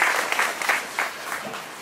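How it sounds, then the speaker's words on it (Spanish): Audience clapping at a municipal event presenting a medical unit in Cuautla, a steady burst of applause from a nearby crowd lasting under two seconds with no talk over it. "Le brindamos un fuerte aplauso."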